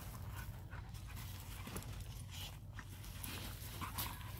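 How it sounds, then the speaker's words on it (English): Young puppies play together, their quick rhythmic panting and soft scuffling running continuously throughout, faint and close, with no voices over it. "if you hear them snorting or sneezing, that lets the other dog know that they're playing"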